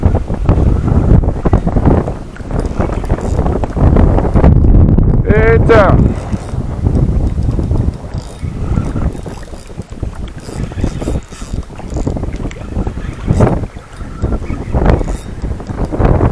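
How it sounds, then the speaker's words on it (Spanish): Wind blows steadily across an open fishing spot on the water, a south wind, with broadband rushing and microphone buffeting throughout and people talking over it. "Viento sur."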